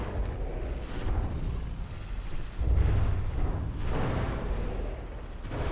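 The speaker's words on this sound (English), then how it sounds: "Was these waterline hits where they kind of dig in like this." Shell and torpedo hits burst against battleships in a naval video game, producing deep, rumbling explosions that swell and roll into one another, with a heavier boom near the middle and no talk.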